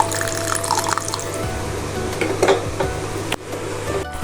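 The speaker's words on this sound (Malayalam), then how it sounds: "കുറച്ച് ഉപ്പും വാളൻപുളി വെള്ളം ഒഴിച്ച് വേവിക്കുക." Tamarind water splashes and trickles steadily into a pot of theeyal curry over a low kitchen hum, with a few small clinks along the way.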